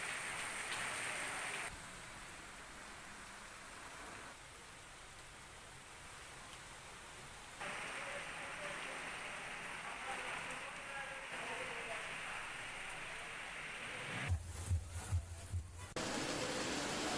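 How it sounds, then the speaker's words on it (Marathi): Pre-monsoon rain showers in the Khamgaon, Shegaon and Nandura area fall as a steady, soft hiss throughout, with a few dull knocks and drips near the end. "खामगाव शेगाव नांदुरा तालुक्यात पावसाच्या सरी बरसायला सुरुवात झाली आहे."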